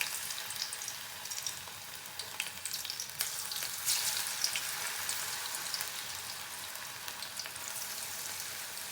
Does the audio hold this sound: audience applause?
no